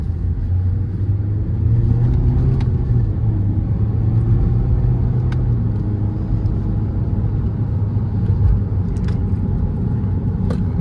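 Nissan Sentra engine held in sport mode, a steady loud low rumble and whir running unbroken and close, rising slightly in the first seconds with faint light clicks from paddle shifts scattered through.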